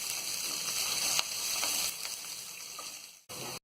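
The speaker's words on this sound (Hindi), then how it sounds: "अब हम इसमें प्याज डाल देंगे। प्याज को हम गोल्डन ब्राउन होने तक तलेंगे।" Onions fry in a pan with cumin and curry leaves, giving a steady close sizzle with faint stirring clicks before it cuts off abruptly near the end. No one talks.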